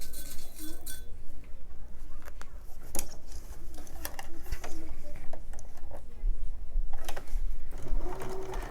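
A sewing machine stitches quilt block seams in quick bursts of rapid mechanical whirring, separated by brief pauses and small clinks as fabric is repositioned.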